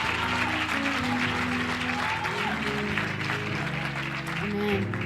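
A church congregation claps hands together in dense, continuous applause with voices mixed in underneath.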